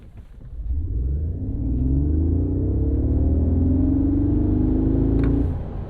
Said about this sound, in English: you are able to brake torque it and get it off the line to 60 in under 5 seconds